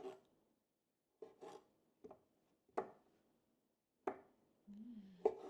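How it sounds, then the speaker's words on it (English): A knife trimming fat from meat on a cutting board gives a handful of short, separate scraping strokes at close range, irregularly spaced, with quiet gaps between them and no talk. "It's a cutting board. That's what it's for. Just trim off all this fat."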